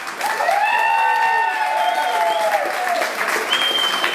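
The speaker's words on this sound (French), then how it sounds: "Je demande à toutes et à tous de les applaudir les mariés ce soir." Wedding guests applaud the newlyweds at an evening reception, a steady wash of clapping heard beneath prominent sustained melodic tones, likely music or voices, that dominate over it.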